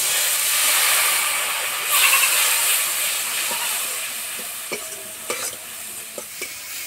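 Water hits hot spice masala in a pan for a fish-roe curry, producing a loud, broad steam hiss that gradually fades while a spoon stirs and scrapes with occasional clinks.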